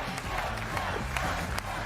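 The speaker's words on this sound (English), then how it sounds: "Villagers are cheering you on." Villagers cheer in a video game, a steady wash of crowd noise with scattered claps and shouts throughout.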